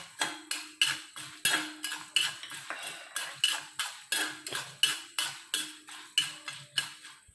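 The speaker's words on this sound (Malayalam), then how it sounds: "നമ്മൾ കടലപ്പരിപ്പ് ഇട്ട് കൊടുത്തിട്ടുണ്ട് അതൊന്ന് വറുത്തെടുക്കാം" A metal spoon stirs chana dal and urad dal roasting in a pan, making steady, evenly spaced clinks and scrapes against the pan at a regular rhythm, close up and alone.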